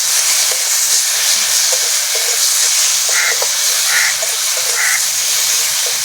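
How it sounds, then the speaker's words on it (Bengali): Turmeric and chili powder fry in hot oil in a pan with a steady loud hiss and sizzle, broken by occasional light stirring scrapes, close up, with no talking. "লঙ্কা গুঁড়ো হলুদ গুঁড়োটা একটু ভেজে নেবো"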